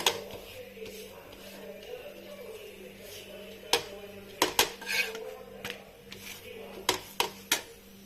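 A papad being dry-roasted in a pan without oil for masala papad, heard as sharp scraping and clattering taps that come in irregular bursts, with a steady low hum running beneath them.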